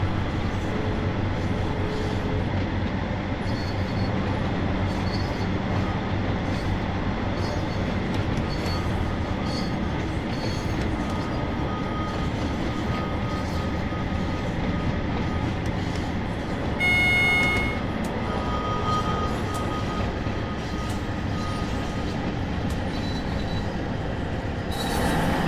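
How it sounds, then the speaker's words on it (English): Dense, unrelenting train cab noise from Train Sim World 2: a loud rumbling drone with rattles and intermittent squealing wheel tones, with a brief clattering burst midway through. "Imagine driving this train in real life with all the sound in the cab like this."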